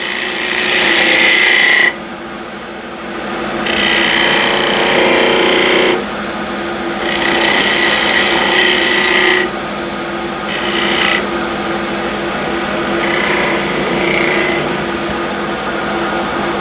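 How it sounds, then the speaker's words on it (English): A spindle gouge cuts an old window sill turning on a wood lathe, giving a loud, steady scraping hiss that lifts and drops in strong alternating bursts as the tool engages and pulls away, with the lathe's hum running under it throughout. "Back with the spindle gouge and make a detail."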